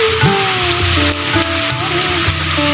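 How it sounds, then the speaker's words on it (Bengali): Heavy morning rain falling in Malaysia, a steady broadband wash of downpour that fills the whole clip, with faint background tones running under it. "সকাল সকাল প্রচুর বৃষ্টি হচ্ছে,"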